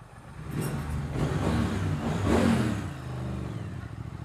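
Triumph Thruxton R motorcycle engine while riding through an airport, a close, rumbling mid-range drone that swells as it accelerates, peaks, then eases back, with no talk.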